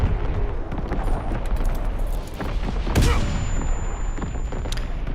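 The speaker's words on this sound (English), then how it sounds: "Incoming patiently enemy wait. artillery." Incoming enemy artillery in the Call of Duty WWII video game: a rolling barrage of blasts and gunfire, loudest in a heavy explosion around the three-second mark, over a constant battle din.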